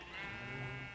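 A single drawn-out bleat from a sheep in the Minecraft video game, a nasal, wavering call lasting about a second, clear and moderately loud with no talk over it.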